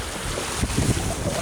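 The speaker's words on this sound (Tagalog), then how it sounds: "ang huni ng dagat" Sea at a warm summer beach, wind buffeting the microphone over a continuous rushing wash of water with a few low thumps of surf close by.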